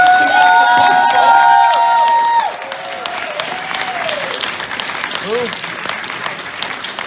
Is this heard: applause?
yes